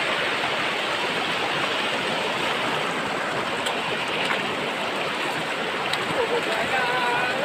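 A river flows through hilly country, producing a steady, dense rush of water that stays loud and unbroken throughout.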